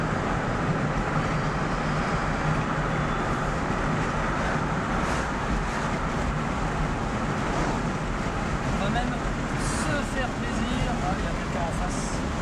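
A Smart electric drive car rolls along with a steady, loud wash of road and wind noise and no break in the rumble, heard from close by.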